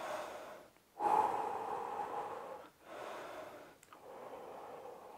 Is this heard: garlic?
no